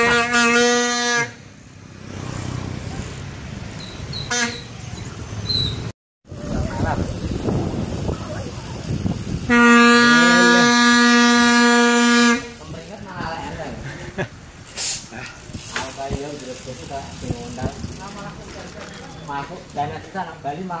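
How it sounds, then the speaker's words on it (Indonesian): Air horn of a heavy tronton truck blaring during a folding mountain bike ride in Salatiga, sounding in a short honk early on and again in one loud sustained multi-tone blast of about three seconds, with people talking and road noise around it. "Wah. Klakson tronton."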